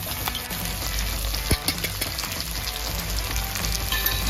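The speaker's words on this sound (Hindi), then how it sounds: "खाली मिर्ची भूनूंगी।" Green chillies frying in a pan for an instant pickle, a steady close sizzle with light stirring clicks and one brief sharp knock.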